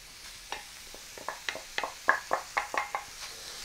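Ground meat with onions sizzles softly in a pan while a utensil scrapes and knocks in a quick series of short strokes, close but quiet.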